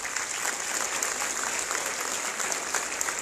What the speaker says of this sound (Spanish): Un aplauso para mis amigos del audio.